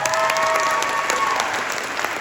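Loud, steady applause with scattered cheers from a concert audience greets a young bass trombonist at a Texas jazz all-star performance, dense clapping filling the hall throughout.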